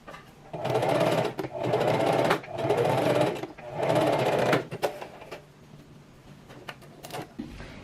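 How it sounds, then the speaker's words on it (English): Domestic sewing machine stitching the ends of an elastic waistband together for a bias-cut maxi skirt, running in three close, loud bursts of rapid needle chatter separated by short pauses, then quieter clicks and handling noises. "when you're sewing your elastic together, that you're not twisting your elastic at all"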